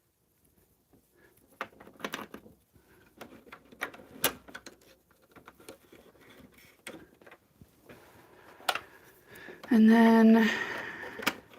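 A sewing machine stitching a jelly cake quilt whirs in one short, loud burst near the end, after quiet handling clicks and a few spoken words.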